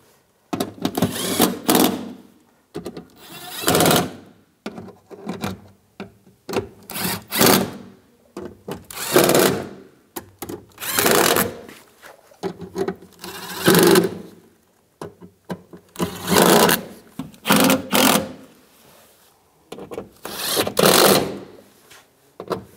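Power tool tightening door bolts on a 1998-2010 Volkswagen Beetle, with repeated short whirring bursts of about a second each, separated by brief pauses, loud and close with no talking.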